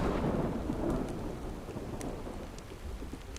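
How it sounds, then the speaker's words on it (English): Rain falls in a thunderstorm in the DayZ video game, with a heavy rumble of thunder fading into a steady wash of rain and the odd distinct drop hitting a surface. "I know it is still raining, and it probably will be for a little while."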